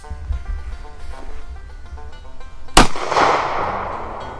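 A 22 TCM gun fired at a soft body armor plate gives one sharp, loud crack near the middle, followed by a broad rushing decay, with a low rumble and faint background noise before it.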